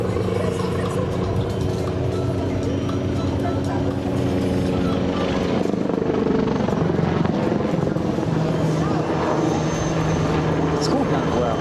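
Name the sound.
Eurocopter EC665 Tigre helicopter flying display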